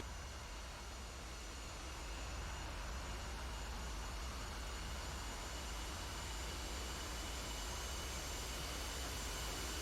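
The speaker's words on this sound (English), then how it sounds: "this engine has got an awesome bassy boom to it" An aircraft engine drones in a steady, unbroken roar with a deep low end during a test flight, even in level throughout, with no voices.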